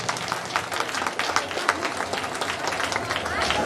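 Audience applause fills a school Teacher's Day program in Titagarh Bansbagan, a steady wash of many hands clapping throughout, with voices murmuring underneath.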